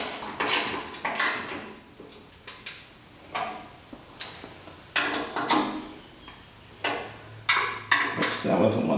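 A hand ratchet tightens 13mm bolts on a bull bar being fitted to a 2021-2024 Ford Bronco, with a series of rapid clicking bursts spaced out in irregular runs, close and fairly loud.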